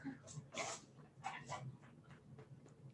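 Dogs whimper and give short yips and barks indoors at close range, broken into bursts, with people talking over and around them.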